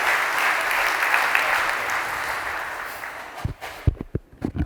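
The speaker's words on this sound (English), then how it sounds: "Let's please give another round of applause for the three entrepreneurs who came up here today." Audience at the PACTCapCon 2019 Lions Den pitch event applauds the entrepreneurs in a dense, steady wash of clapping that fades out, followed by a few scattered sounds.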